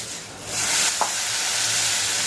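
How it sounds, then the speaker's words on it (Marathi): Masala sautéing in oil in a pan for a sandge (lentil dumpling) gravy, giving a steady close hiss and sizzle that swells after a quiet start, with a brief scrape of stirring partway through. "खूप पेशन्स ठेवून परतण्याचंच हे काम आहे आणि तेल सुटल्याशिवाय पुढे आपण काहीच करणार नाही आहोत"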